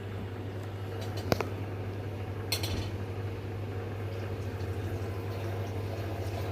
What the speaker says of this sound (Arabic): اهو بيغلي اهو